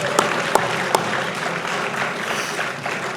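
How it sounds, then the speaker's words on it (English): Applause at a village anniversary gathering honoring a former council president, a modest clapping wash with a few sharper claps standing out near the start, steady and moderately loud throughout. "let's give him a big round of applause"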